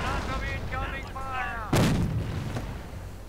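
A sniper's shot rings out in a US versus Wehrmacht strategy war game, one sharp, loud crack that follows a stretch of talking and is trailed by a fading echo.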